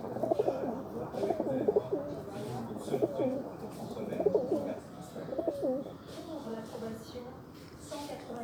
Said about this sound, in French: les fameux pigeons qui sont toujours là